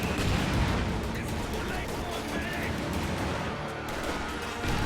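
Rifle grenades and gunfire going off in a multiplayer war game, a dense, continuous roar of blasts and shots, with excited commentary talking over the action throughout.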